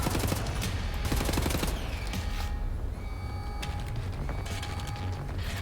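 Rapid automatic machine-gun fire from Wolfenstein: The New Order rattles in dense, fast bursts over steady game ambience, with sharp repeated shots crowding the first two seconds and sporadic cracks and mechanical clatter after.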